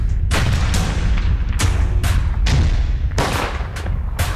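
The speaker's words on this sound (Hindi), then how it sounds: "जरा सी बात पर एक घंटे फायरिंग।" Repeated gunfire in a village shooting in Palwal, a rapid string of loud, sharp shots cracking one after another at close range with booming reports, nearly continuous over a few seconds with no voices.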